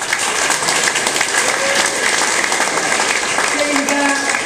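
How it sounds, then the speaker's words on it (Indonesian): Audience applause at an Indonesian event on teaching factory and small-business support with INKA Group, Maspion Group and Unicha, a steady dense wash of clapping filling the hall, with talk beneath it. "Tepuk tangan untuk kita."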